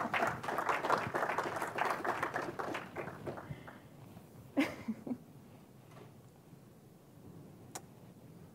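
A small audience after a cybersecurity talk gives a short round of applause, a thin patter of a few hands that fades within about four seconds, followed by scattered taps and quiet room noise.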